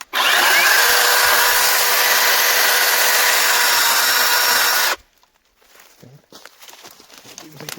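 Procraft PKA42Li cordless battery chainsaw cutting through a fallen willow trunk about 30 cm thick, a loud steady close whine for about five seconds that stops abruptly, followed by quieter rustling and handling noises.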